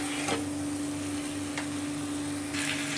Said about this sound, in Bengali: আমি বেগুন আর আলু মশলার সাথে কষিয়ে নিয়েছি।